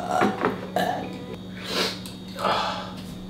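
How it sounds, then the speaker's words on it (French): A person burps while cooking a Chinese pâté (shepherd's pie) in a kitchen, a couple of short guttural bursts at close range, with other voices around. "J'ai comme un peu roté dans la canne."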